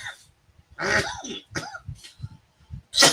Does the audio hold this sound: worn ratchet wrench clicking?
no